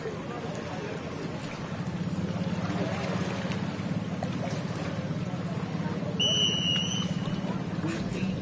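GP personal watercraft engines rev on the start line at a watercross race in Paris, Texas, a dense steady roar of several machines holding throughout, with an announcer talking over it.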